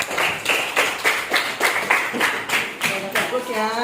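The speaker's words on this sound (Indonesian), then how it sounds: "Ya, kasih aplaus." Students in a classroom clap in a quick, even rhythmic pattern of bursts, close and fairly loud, with a voice speaking briefly near the end.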